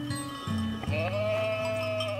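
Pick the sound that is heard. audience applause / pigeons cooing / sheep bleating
sheep bleating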